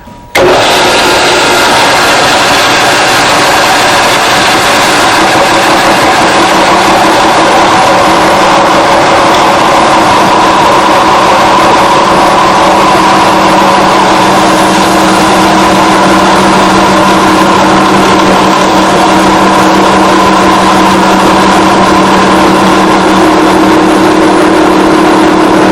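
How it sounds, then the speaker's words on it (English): A milling machine's rotating cutter slowly feeds into steel tubing while building a motorcycle chassis, giving a loud, steady machining drone with a sustained whine from start to finish, with no talking. "I'll turn the machine on, and as the cutter is rotating, I'll be feeding the tubing slowly into the cutter."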